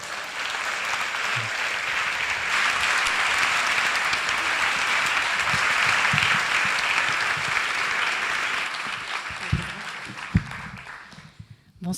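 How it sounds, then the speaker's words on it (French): A large audience at an evening storytelling and music show applauds loudly and steadily for about ten seconds. The clapping then thins out into scattered claps and small knocks. "Donc merci d'applaudir très fort."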